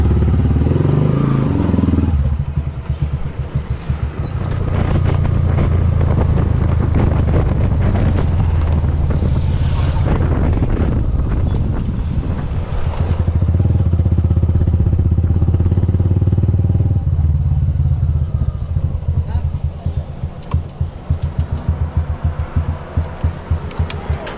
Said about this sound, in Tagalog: mainit na yung makina ni Mia dadaan pa tayo dyan sa sentrum magpapagas